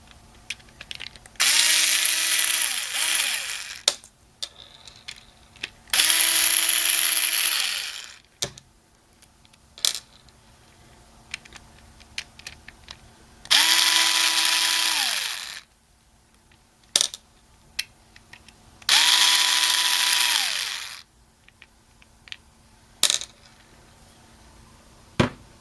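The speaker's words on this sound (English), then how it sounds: "my corded screwdriver has the Torx bit built into it." A corded electric screwdriver with a built-in Torx bit drives screws while a failing hard drive is swapped for an SSD in an HP Envy gaming PC: four loud whirring bursts of a few seconds each, with light clicks and handling between them.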